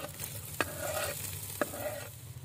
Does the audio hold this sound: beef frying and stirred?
yes